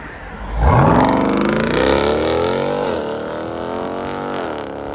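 A 2021 Jeep Grand Cherokee SRT Hemi V8 with a $2,000 aftermarket exhaust revs hard from idle, surging loud and near into a rising roar, then holding and easing down in a long sustained drone.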